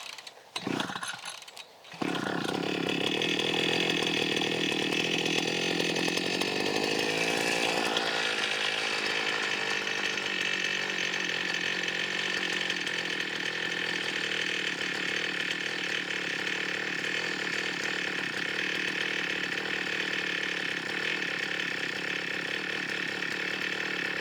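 A petrol garden strimmer's small two-stroke engine catches after a brief rattle and keeps running, a steady buzzing drone that sounds thin and weak, close up and continuous with no talk.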